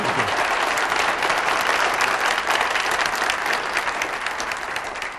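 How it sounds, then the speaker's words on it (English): A theater audience at a 2012 Republican primary Senate debate applauds, a steady wash of clapping from many hands that holds for several seconds before easing slightly toward the end. "certainly we understand you want to applaud these introductory remarks"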